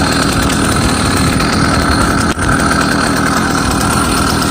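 A 66/80cc ZEDA two-stroke motorized bike engine running on 16:1 fuel mix, a steady, loud buzzing drone that holds constant with a brief dip midway.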